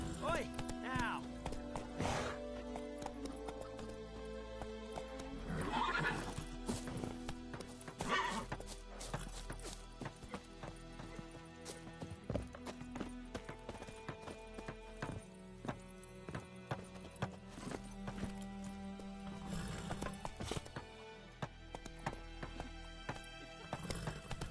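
Roach the horse gallops and whinnies in a video game, continuous quick hoofbeats under layered game music, with a couple of neighs standing out along the way.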